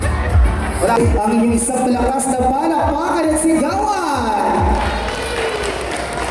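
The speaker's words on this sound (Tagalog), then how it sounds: "Ang inyong isang malakas na palakpakan at sigawan." Loud audience clapping and cheering fill a hall at a 60th birthday celebration, with steady applause throughout and a crowd's voices and shouts rising over it, close and continuous.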